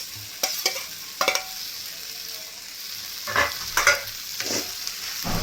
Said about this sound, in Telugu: నెక్స్ట్ కొంచెం షాలో ఫ్రై చేసుకున్న మష్రూమ్స్